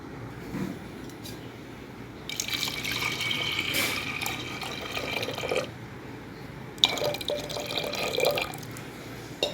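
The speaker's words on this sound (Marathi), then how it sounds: "डाळीच्या एवढं वरती असं पाणी घेणार आहोत आपण" Water is poured into a pot of masoor lentils in two separate pours, a soft gurgling splash against a quiet background.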